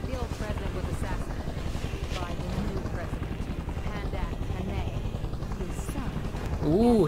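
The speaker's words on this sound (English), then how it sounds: "It's because the bloody helicopter's too loud." A steady, loud helicopter rotor drone in the opening of the video game Just Cause 2 fills the whole stretch, swelling slightly near the end, with speech mixed in underneath.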